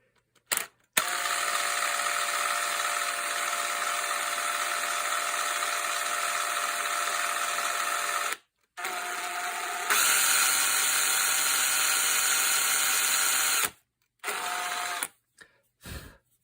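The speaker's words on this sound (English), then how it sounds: "Obviously, I don't want to drill through to my fingers" An electric drill whirs steadily in long runs while drilling into a gun's fore-end, stopping briefly and restarting with a slightly higher, strained pitch, then a few short bursts at the end.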